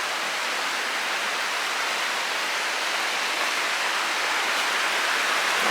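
A creek flows near a creek bank in Maggie Valley, North Carolina, giving a constant, even wash of rushing water with no pauses and no voices.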